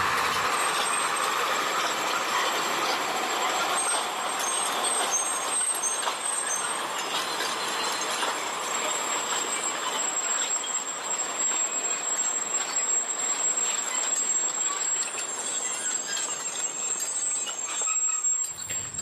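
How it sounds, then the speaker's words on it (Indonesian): A locomotive passes a level crossing at Turi at dusk on a sugar-cane haul line, a steady rumbling roar with wheel noise and a high whistle-like squeal running throughout, close and loud. "lokomotif melewati perlintasan di daerah Turi"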